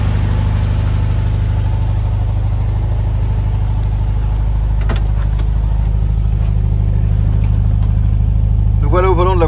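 A 1975 Volkswagen Beetle convertible engine idles steadily with an automatic choke, a low even air-cooled thrum throughout, while someone talks quietly nearby.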